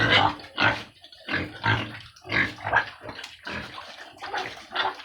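Pigs, including a sow, eat pellet feed with loud, repeated grunting and chomping bursts in a steady rhythm, close up and with no talk.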